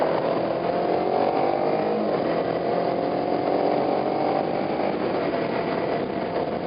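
A Kawasaki Ninja 250 sport bike cruises on the highway, its high, strained engine drone continuous and loud with rushing wind noise, the pitch wavering slightly as it holds speed; no voices.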